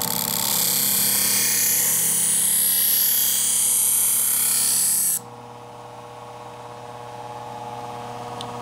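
A knife blade is sharpened on a paper wheel coated with silicon carbide grit: a loud, steady grinding hiss runs for about five seconds, then drops abruptly to the quieter hum of the wheel spinning on.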